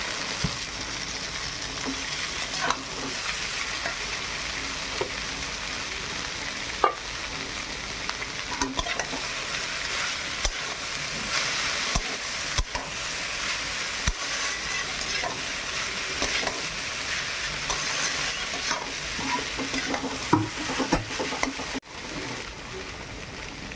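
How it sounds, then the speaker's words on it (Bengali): Chow mein noodles stir-fry in a pan over a village kitchen fire, a steady sizzle broken by scraping and clattering stirs throughout, with no voices. "এইবার চাউমিনটা দিয়ে দেবো।"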